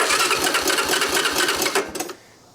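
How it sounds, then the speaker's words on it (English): The electric starter of a 1987 Honda TRX250 ATV cranks the engine with a rapid rhythmic chugging for about two seconds, sounding slightly weak, then cuts off abruptly into near silence. "Starter doesn't sound the healthiest, but not bad."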